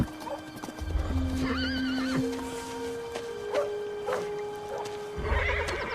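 A horse whinnies loudly several times, with hooves clattering and shuffling nearby, agitated and close.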